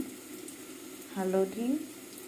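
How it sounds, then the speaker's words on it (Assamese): Turmeric goes into hot oil with garlic-ginger paste already frying, a low steady sizzle running throughout while a voice speaks briefly in the middle. "এতিয়া মই তেলত দিম হালধি,"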